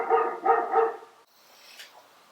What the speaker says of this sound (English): the dog is really always barking